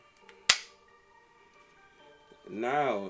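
A single sharp click as a Glock 21 pistol locks into a CAA MCK chassis kit, close and crisp, followed by someone talking.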